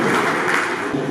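Applause from an audience at a district youth festival, a dense continuous patter of clapping held steady and fairly loud throughout the short stretch.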